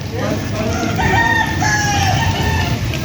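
Roosters at a gamefowl farm in Pampanga crow repeatedly in long, overlapping calls, loud and close, with clucking and a faint voice in the background.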